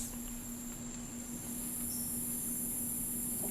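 A steady, loud insect drone of cicadas fills a jungle setting, with a constant high-pitched buzz and an unbroken tone throughout, no voices present.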